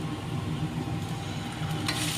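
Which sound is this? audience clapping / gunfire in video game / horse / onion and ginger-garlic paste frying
onion and ginger-garlic paste frying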